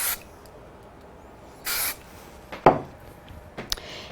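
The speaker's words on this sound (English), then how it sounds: "A little bit of spray on both of these." Short hissing bursts of spray adhesive hit small card pieces at a crafting table, two distinct sprays about two seconds apart, followed by soft rubbing and tapping of paper handled up close.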